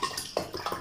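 Drinking water poured briefly into a glass or cup at a mutton curry meal, a short splashing burst lasting under a second.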